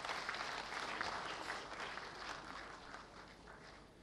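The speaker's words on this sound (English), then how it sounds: "Ladies and gentlemen, please give a big round of applause." An audience claps at an HR conclave in Gurgaon after panelists are introduced. The steady, dense applause is fairly soft and distant, holding through the clip and tapering slightly at the end.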